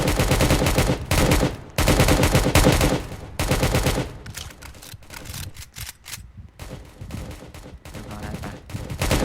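Rapid automatic gunfire in Roblox Prison Life comes in loud, dense bursts, strongest in the first few seconds, then continues in choppier, sparser volleys with brief gaps between them.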